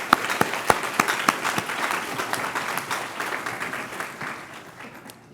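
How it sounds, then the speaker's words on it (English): A seated audience at a county police academy graduation ceremony applauds a recruit's speech, with a close, dense round of clapping, a few sharp standout claps early, slowly tapering off. "Give him another round of applause for his speech."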